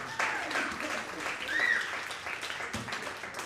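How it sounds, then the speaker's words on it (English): Comedy club audience applauding a comic, moderate scattered clapping mixed with cheers and whoops, with a voice speaking over it. "Give him another round of applause"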